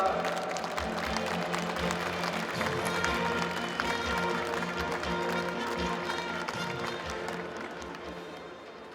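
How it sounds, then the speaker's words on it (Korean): Applause at a Democratic Party presidential nominee selection convention fills a large hall, dense steady clapping from a big crowd with cheering and a rhythmic beat underneath, fading slightly toward the end. "힘찬 박수 부탁드리겠습니다."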